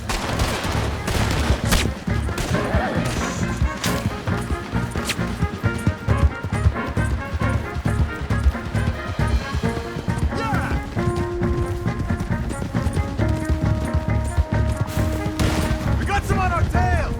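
Gunfire in the video game Red Dead Redemption: dense volleys of rifle and pistol shots crack repeatedly over galloping horse hooves, with voices talking amid the fight.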